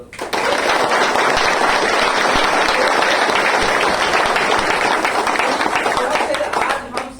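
A seminar audience in Surat, at a direct-selling event, bursts into dense, loud applause. The clapping holds steady for several seconds and then tapers off near the end.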